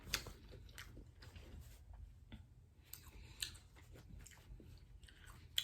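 Close, quiet chewing and biting while eating a seafood boil, with soft wet squishes and occasional crunchy clicks in an irregular rhythm, no talking.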